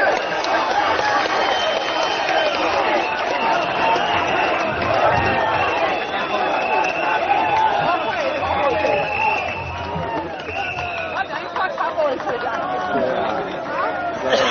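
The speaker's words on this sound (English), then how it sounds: "Can hear the crowd chanting Workers Party." A large outdoor crowd at a Workers' Party election rally in Hougang, Singapore, makes a steady, dense roar of voices and rhythmic chanting throughout, loud and continuous with scattered shouts.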